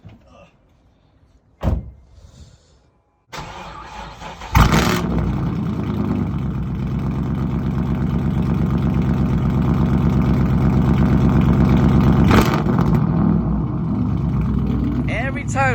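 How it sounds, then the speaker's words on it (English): A car door thuds and an electric window whirs. Then a newly bought car's engine cold-starts with a loud burst and settles into a steady, strong idle. Voices are faint in the background. "Let me see that cold start."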